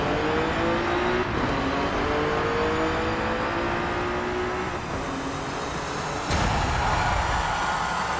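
A drag-tuned Nissan Z Nismo in Forza Horizon 5 accelerates hard, its engine climbing steadily in pitch through the gears with brief shift breaks, loud and continuous throughout.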